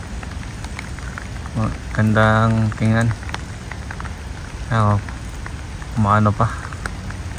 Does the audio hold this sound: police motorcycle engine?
no